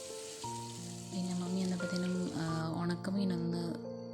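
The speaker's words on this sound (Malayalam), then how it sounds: "അങ്ങനെ ജാനിക്ക് രണ്ട് മത്തിയൊക്കെ വറക്കുകയാണേ" Sardines fry in a pan with a soft, continuous sizzle at modest volume, largely covered by sustained tonal sounds such as humming or music that play throughout.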